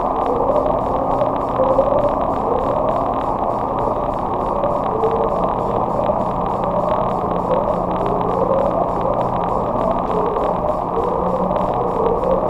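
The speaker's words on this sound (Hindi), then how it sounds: "इस आवाज का सोर्स आज तक अननोन है और इस आवाज का नाम है अपस्वीप" Upsweep, the unexplained deep-ocean sound recorded in 1991, rises as repeating siren-like upward sweeps in a steady cycle over a constant low rumbling hiss, loud and continuous with no voices.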